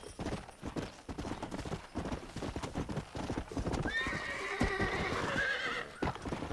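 In Red Dead Redemption, a horse gallops with rapid, steady hoofbeats up close, joined partway through by a loud whinny over the running clatter.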